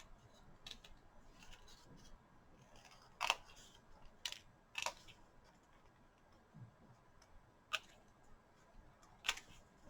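Scissors snip apart stamped paper pieces for a sand-and-sea card set, a few sharp, isolated cuts spaced across a quiet room, close and fairly soft.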